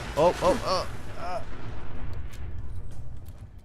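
A grenade cooks off and explodes almost instantly in Fallout 4, a loud booming burst that rolls into a long, rumbling tail of low noise, with a voice briefly heard at the start.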